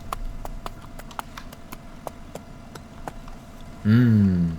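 Horses in the video game Farming Simulator 17, steady hoof clip-clops plodding at an even pace close by, followed by a loud whinny near the end, with no talk.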